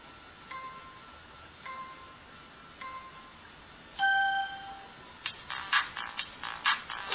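A mobile phone game starts up on a Sony Ericsson W760: a few soft chiming tones spaced about a second apart, then a brighter ding followed by a rapid run of bright, jingly game effects, all faint and alone.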